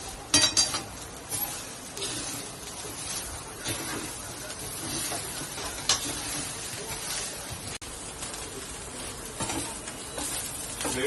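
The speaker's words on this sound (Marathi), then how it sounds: "खसखस, मसाल्याचं फूल, दालचिनी, काळी मिरी, लवंग, मसाल्याची वेलची आणि बडीशेप हे मी सगळं त्यात टाकून भाजून घेणार आहे" Whole spices such as poppy seeds, mace, cinnamon, black pepper, cloves, cardamom and fennel dry roast in a pan with a soft, continuous crackle, while frequent clinks and scrapes of stirring run throughout.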